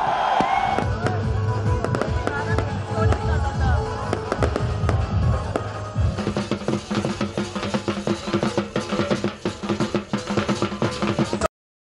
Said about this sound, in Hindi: सिडनी, शिमाली जनूबी कोरिया, हांगकांग, बीजिंग और ताइपे में शानदार आतिशबाजी